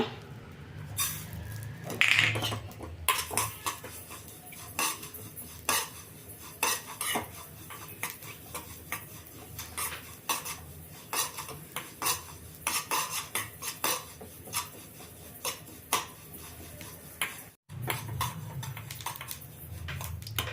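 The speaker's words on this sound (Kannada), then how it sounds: "ಈಗ ಎಳ್ಳು ಹುರ್ಕೊಳ್ತೀನಿ ನಾನು" White sesame seeds roasting in a pan, stirred steadily with a utensil that scrapes and clinks against the metal in a dense, continuous rhythm close by, with no talking.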